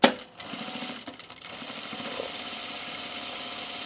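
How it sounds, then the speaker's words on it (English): A sewing machine stitching across the bottom of a chino pants pocket, starting with a sharp knock and then running as a steady, even mechanical whir. "Let's finish sewing the bottom of this pocket."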